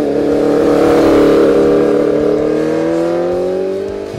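A Yamaha XJR 1300 custom motorcycle's engine revs loud and close, a rough, powerful tone that climbs steadily in pitch for several seconds before easing slightly at the end.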